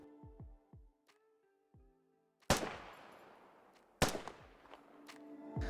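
HK417 marksman rifle in the video game Squad firing two sharp, loud single shots a second or so apart, each with a long echoing tail, after a few quieter mechanical handling clicks.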